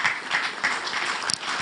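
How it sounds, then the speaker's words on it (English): A crowd applauds at a Ghana post-election event as President-elect John Dramani Mahama is welcomed to the podium, with dense, loud, continuous clapping throughout. "Please, a louder round of applause."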